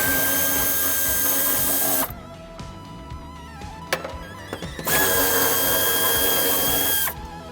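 Power tool backing out two 10 mm screws on a Suzuki SX4 S-Cross trim panel, loud whirring bursts near the mic, one around two seconds long and another after a pause, with rattling handling between them.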